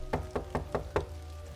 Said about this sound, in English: I walked up to the door and knocked